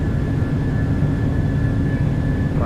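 Boeing 737-800 jet engines at takeoff power in a flight simulator, on a Transavia departure from Paris, roar as a steady broadband rush with a thin high whine running through it, constant and close.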